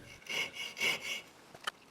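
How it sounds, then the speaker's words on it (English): A hand saw cuts a groove into a holly sword handle in a few short rasping back-and-forth strokes, close and fairly quiet, followed by a light tap. "to carve the spiral into the handle, I started by sawing a groove to uniform depth"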